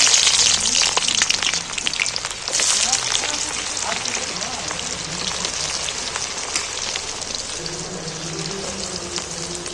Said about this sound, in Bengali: পেঁয়াজগুলো গরম তেলের উপরে তুলে দিচ্ছি